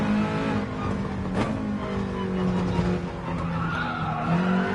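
Car skidding and spinning out on a rally stage in a racing video game: a steady engine drone with sliding tire noise and a brief sharp burst partway through, continuous and close throughout.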